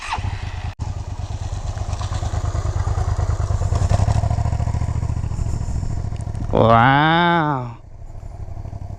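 A motorcycle engine runs loud and close throughout, with a short revving surge near the end as the bike lurches forward after the clutch is let out too fast; a person's brief exclamation rises over it.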